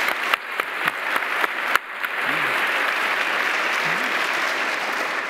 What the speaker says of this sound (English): Can we have a round of applause for our solvers?